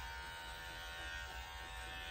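Electric clippers skim the coat on the sides and thigh of a senior dog with special needs, held in a groomer's harness, giving off a steady, even buzz from start to end.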